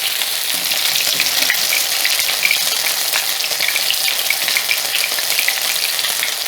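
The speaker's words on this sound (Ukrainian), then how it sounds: "поки виклала останній, вже в мене цей і підсмажився." Potato pancakes (deruny) frying in a pan, a loud, steady sizzle of hot oil with crackling pops throughout and no talk.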